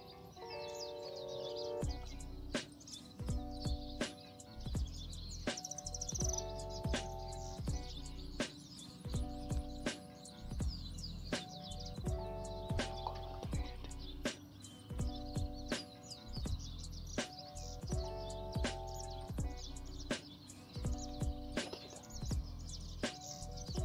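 A wild goldfinch singing outdoors during trapping, its bright twittering chirps repeating throughout over a steady rhythmic thump of distant cumbia music from a party.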